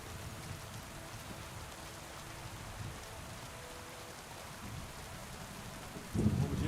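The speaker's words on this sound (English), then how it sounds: "That cold rain weather." Cold rain pours steadily in the game Kingdom Come: Deliverance II, with low thunder rumbling beneath the constant hiss and a louder roll swelling at the very end.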